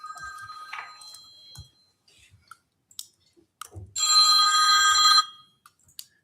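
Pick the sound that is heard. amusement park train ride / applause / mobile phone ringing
mobile phone ringing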